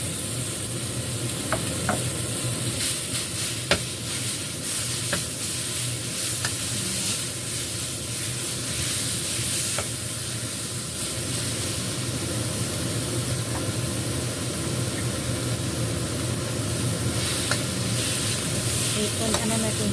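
Ground meat sizzles steadily in a hot pan as it is stir-fried, a loud continuous hiss broken by occasional clicks of a utensil, with no talking.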